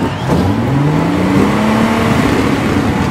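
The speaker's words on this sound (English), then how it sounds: "Get your engine started and ready." Race car engines revving in a toy racing game, a loud sustained engine drone with rising and falling pitch sweeps, close and continuous.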